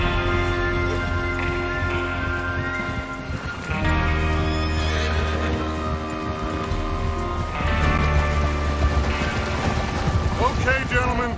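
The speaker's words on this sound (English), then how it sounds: "Get your horses ready." Horses whinnying loudly in the video game Red Dead Redemption 2, several drawn-out neighs with hoof clip-clops, heard close alongside a game soundtrack and some voices.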